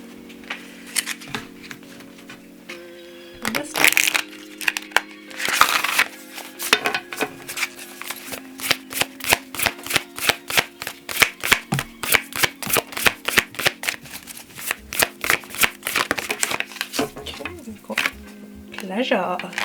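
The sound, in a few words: shuffling oracle cards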